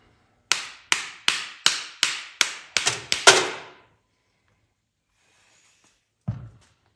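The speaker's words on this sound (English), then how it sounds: "Push the pins forward, tap them out." A hammer taps pins out of SST fishing rod formers in eight sharp, evenly spaced metallic knocks, then a brief pause and one final lower knock, close and with no voices.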